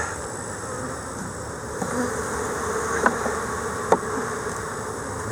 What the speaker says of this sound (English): There's actually quite a few bees in there.